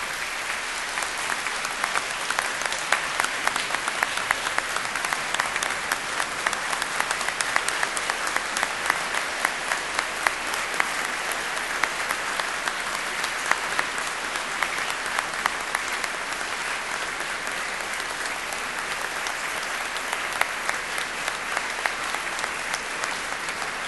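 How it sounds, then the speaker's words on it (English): Sustained, dense applause from a large audience at a Cardiff University graduation ceremony, a steady wash of many hands clapping for over twenty seconds without letting up. "giving them all an enthusiastic round of warm applause"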